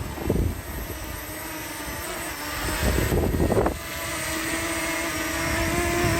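A small camping drone hovers and descends toward a box for landing beside Nantcol Waterfalls, its steady whirring engine drone continuous throughout, rising briefly louder mid-clip before settling.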